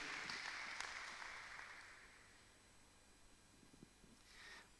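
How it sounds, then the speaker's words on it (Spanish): A church congregation applauds the Lord during a service, a broad wash of steady clapping from many hands that gradually fades out, with a brief faint swell of claps at the end. "Dale un aplauso al Señor por ese sacrificio que hizo en"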